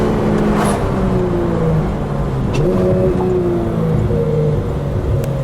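A loud 2016 Porsche GT3 RS engine drones steadily with a rushing air intake whoosh and some rising revs, no talking.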